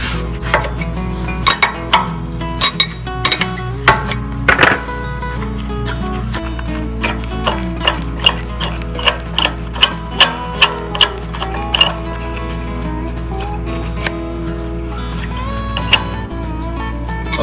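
Sharp metallic clicks tick out in irregular bursts over a steady low hum as a stud is unscrewed from the oil pan of a Massey Ferguson 231 tractor.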